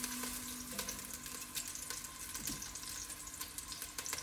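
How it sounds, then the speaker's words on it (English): Greek turkey meatballs fry in a pan with a soft, steady sizzle and occasional faint crackles and clinks, quiet and close without any talking. "I'm just gonna cook down my meatballs"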